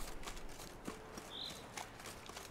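Horse hooves clip-clop faintly in Witcher 3, a few scattered hoof strikes over a soft ambient game background with a brief high chime.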